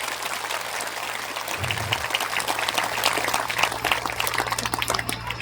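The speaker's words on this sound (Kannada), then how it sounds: "ಇಳಕಲ್ಲದ ಅನ್ನದಾನೇಶ್ವರ ಶ್ರೀಗಳಿಗೆ ಒಮ್ಮೆ ಜೋರಾಗಿ ಚಪ್ಪಾಳೆ ಹೊಡ್ರಿ ಭಕ್ತಿಯಿಂದ ನೀವು." Applause from a devotional discourse audience honoring Ilkal's Annadaneshwara Swamiji, a steady dense crowd clapping that holds throughout without pause, with a low hum underneath.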